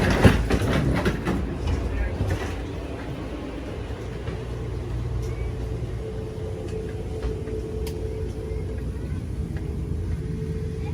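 Amtrak's Pere Marquette passenger train pulls out of Bangor, Michigan, with a low, steady rumble and scattered faint clicks and knocks, fairly quiet throughout.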